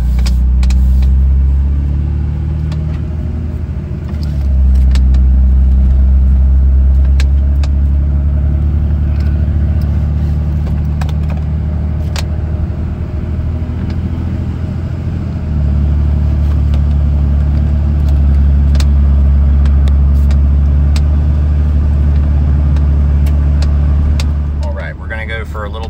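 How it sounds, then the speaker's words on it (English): A 2003 Dodge Ram 2500 with the 5.9 Cummins diesel accelerates on the road, a heavy, loud engine rumble that climbs and drops with two clear gear changes. "Acceleration for you once we get out on the road here."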